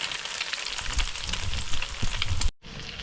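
An egg fries with a loud, crackling sizzle in a pan, punctuated by stirring scrapes and taps, cutting out briefly near the end before the frying resumes.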